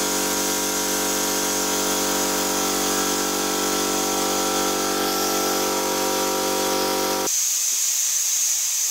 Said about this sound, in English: I'll turn this compressor on. It's going to be noisy.